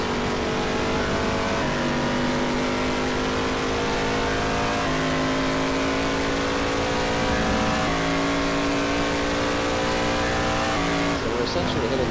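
In NASCAR Racing 2003, a race car engine screams steadily near 9,000 RPM with slight pitch shifts and a brief tire squeal near the end, loud and unbroken, with a voice talking over it at times.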